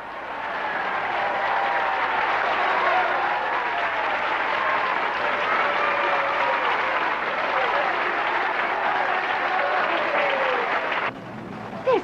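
A bowling tournament crowd gives sustained warm applause, dense clapping holding steady for about eleven seconds before tapering off, with faint voices mixed in.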